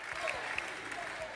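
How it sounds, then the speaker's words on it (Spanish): Applause in a congressional chamber, a brief, faint, steady patter of many hands clapping at a distance. "y si Karina aplaude, todos aplauden."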